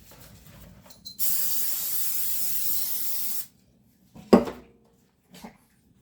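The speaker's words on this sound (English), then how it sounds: "let me spray my pan" Cooking spray hisses in one steady burst of about two seconds onto a baking pan for bread and cinnamon rolls, followed by a few faint clinks and knocks of the can and pan.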